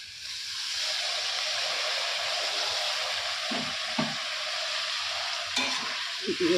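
Ginger, garlic, onion and spices fry in a pan, giving a steady, loud hiss and sizzle with a few scraping stirs near the end and no talking.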